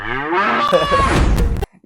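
A buffalo gives one long, loud, close moo that slides slowly in pitch and cuts off abruptly near the end, heard alone in a scene from the Panchayat Season 4 web series trailer.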